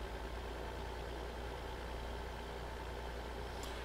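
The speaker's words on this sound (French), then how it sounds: "mon tracteur va plus vite" A tractor engine in Farming Simulator 2015 drones steadily, a low continuous rumble held at an even level with no clear rise in pitch, alone and fairly faint.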